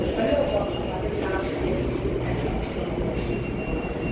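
A New York subway train rolls toward Flatbush with a steady rumble and rattle of the cars and faint squeals from the wheels. Voices and talk sound now and then over the noise.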